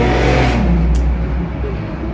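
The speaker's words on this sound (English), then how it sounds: "You're gonna hear a couple loud cars, but I'll just pause or something." Loud cars roaring past outdoors, one engine revving up close and staying strong across the whole stretch, a steady low rumble throughout.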